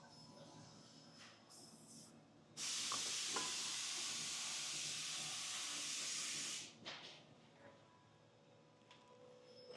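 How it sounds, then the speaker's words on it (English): An aerosol spray can blasts onto ATV axle parts on a Honda Rubicon, Rancher or Foreman: one loud, steady hiss lasting about four seconds, preceded by a short burst, against quiet workshop background. "We're gonna spray this again."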